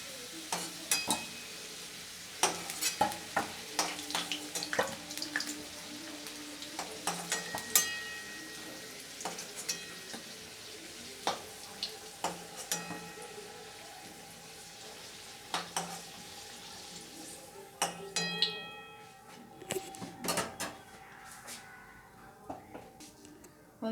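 Potatoes fried to a reddish brown in oil are lifted out of the pan, with a steady sizzle and scattered sharp clinks and scrapes of a utensil against the pan throughout.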